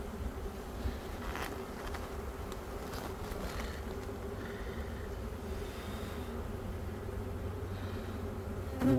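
Honeybees swarm in a dense, steady buzz at an open hive during a queen-cell inspection, a close, continuous drone of many wings with no talking over it.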